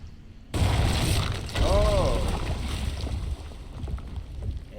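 A loud explosion in Fallout: New Vegas bursts in suddenly after a brief quiet start, followed by a rumbling, gradually fading aftermath with a second surge and scattered debris-like noise.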